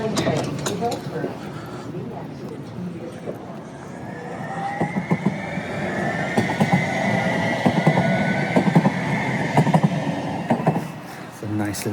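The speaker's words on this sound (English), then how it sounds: "It's a nice little quick 10-minute train ride" A Blue Line light rail train rides along, its steady rumble and rattling joints heard from inside the car, with a rising whine of the motors and people talking over it.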